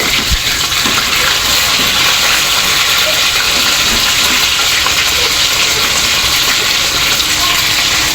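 Chicken pieces fry in a pan with a loud, continuous hissing sizzle that holds steady throughout, with no voices.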